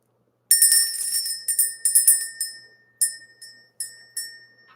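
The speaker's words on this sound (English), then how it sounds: "So let's ring the bell." A bell rung by hand in a series of bright metallic strikes, several quick rings then a few spaced single dings, each ringing out and decaying, loud and close with no talking.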